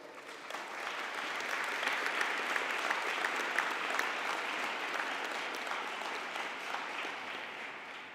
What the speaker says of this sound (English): please turn to your supporters and show your appreciation with a round of applause